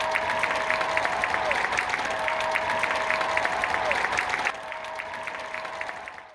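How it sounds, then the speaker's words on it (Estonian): Audience applause for the trainers at an indoor horse show's small-pony quadrille, a steady sustained wash of many hands clapping that drops slightly in level near the end, with a faint tone running underneath. "Teeme aplausi treeneritele."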